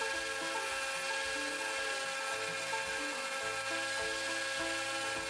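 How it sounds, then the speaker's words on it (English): Belt grinder running over an 8-inch contact wheel while shaping the handle on a forged kukri knife: a steady, even high-pitched whine and hiss with a faint rhythmic low pulsing throughout. "I just moved the belt to where it's hanging off the edge of the 8-inch contact wheel about 1/8 of an inch"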